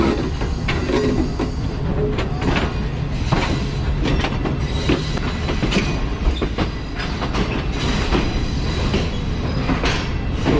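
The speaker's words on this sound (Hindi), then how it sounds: "ट्रैक चेंज करके ट्रेन प्लेटफॉर्म लाइन से मेन लाइन की तरफ आ रही" Green Line Express passenger train in Pakistan crossing points from the platform line onto the main line, heard from aboard as a loud, steady rumble with dense clickety-clack of wheels over the switches and faint squeals.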